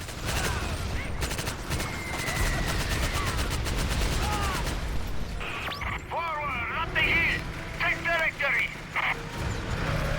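Rapid machine-gun bursts and heavy battlefield fire in Medal of Honor European Assault on the Eastern Front, loud and dense at first, then sporadic shots and whistling debris, with someone talking over it.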